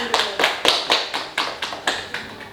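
Audience applause at a school talk show for extracurricular club leader candidates, about ten sharp, evenly spaced claps in a steady rhythm, fairly close and clear with no talk over them.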